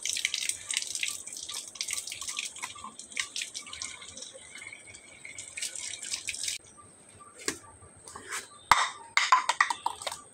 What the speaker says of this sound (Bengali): তাহলে এই কাপটা ধুয়ে ফেলো।